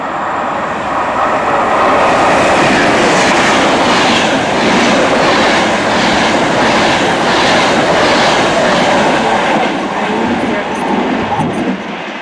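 A London North Western Railway Class 350 electric train rolls past close by in a Glasgow station area, a steady loud rumble with rhythmic wheel clatter over rail joints throughout, easing slightly near the end.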